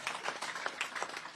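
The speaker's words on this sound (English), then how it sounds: "That you can clap for that." An audience at a governor's briefing claps in quick, dense, moderately quiet bursts for about a second and a half, with no talk over it.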